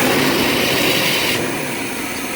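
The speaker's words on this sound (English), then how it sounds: "Now the engine's not shaking and wiggling like it was, which is good." Car engine idling after a timing repair, a steady, loud mechanical whir and hum with no break, smooth and even.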